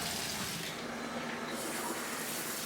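Water runs steadily from a faucet and drains down an apartment sink, a close, full rushing splash with no voices over it.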